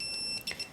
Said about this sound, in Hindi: इसके मैं बिल्कुल करीब हूँ तो अभी ये कर रही है जी बहुत ज़्यादा बीप